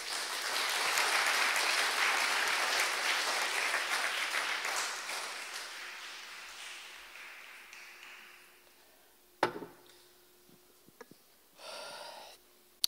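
Congregation applause in a church, a loud sustained wash of clapping that gradually fades out, followed by a few scattered thumps and a brief rustle.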